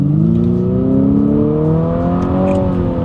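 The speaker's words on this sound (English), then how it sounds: "It's a pretty cool engine sound when you really get on it too." A 2023 Infiniti QX55 accelerates hard from a standstill in sport mode, its engine note climbing steadily as revs build, loud and close with a continuous rising drone and no talk.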